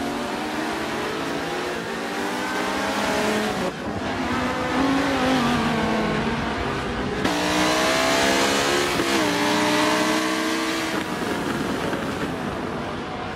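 Race cars at Brands Hatch in the Forza 7 racing game, including a Ferrari 458 Italia and a Viper: continuous loud engine roar with rising and falling revs through gear changes, steady and close throughout.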